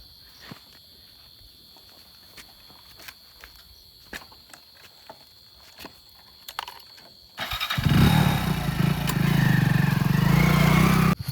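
A motorcycle engine starts after a quiet outdoor stretch of footsteps and insect chirps, catching suddenly and settling into a loud, close, steady running drone.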